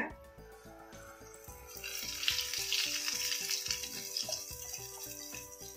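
Dhamroot cake mixture poured into hot ghee and frying, a steady bright sizzle that swells and holds close with light scraping, alone throughout.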